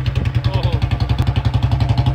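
A Bullet motorcycle engine runs close by with a steady, rapid thumping pulse, loud and even, while a voice talks over it.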